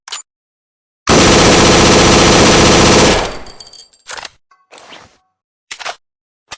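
Animated M4 Carbine assault rifle letting off a loud continuous full-auto burst lasting around two seconds, followed by a ringing tail and a couple of short metallic clacks, heard on its own.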